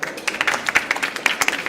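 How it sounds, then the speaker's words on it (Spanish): Audience applause for a large panel at a COP25 climate session on the forests of Mesoamerica, a busy patter of many hands clapping at moderate distance. "Por favor, un aplauso,"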